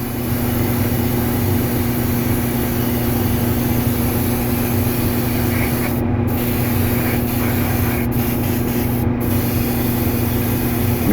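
An airbrush sprays an even base coat of Stynylrez olive green acrylic primer onto a 1/5 scale Hulk figure prototype, a steady close hiss of air and paint running unbroken with no talking.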